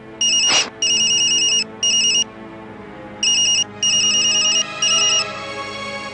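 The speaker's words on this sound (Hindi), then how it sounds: "गुड्डू भैया का फोन है।" An electronic phone ringtone plays a repeating beeping melody in short bursts, loud and close, with a brief thump early on.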